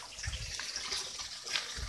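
Water from an aquaponics system flows into grow beds, a continuous gurgling, splashing trickle heard close and fairly quiet, with no talking.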